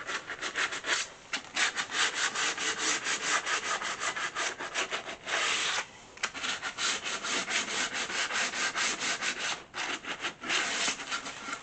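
Rhythmic back-and-forth strokes of sandpaper hand-sanding a wooden piece during furniture restoration, close and steady, with a few brief pauses and no voices.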